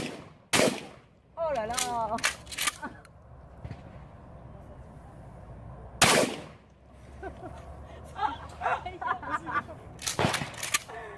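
A pistol grip shotgun fires on a Florida training range, three sharp, loud blasts spaced a few seconds apart, separated by people talking and exclaiming.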